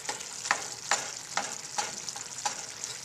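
Ground meat browns in a skillet for an Amish casserole, a constant crackling sizzle broken by regular spatula scrapes about every half second, close and moderately loud.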